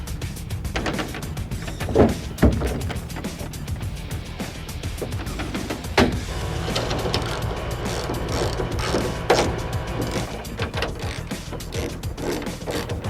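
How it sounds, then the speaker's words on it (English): Continuous ratchet clicking as the two back bolts of a BAK RollBAK G2 tonneau cover are tightened on a Dodge Ram truck, close and steady, with a few louder knocks. "then tighten the two back bolts down"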